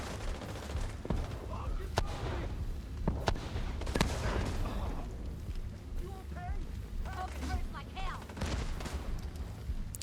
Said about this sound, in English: the grenade came in for you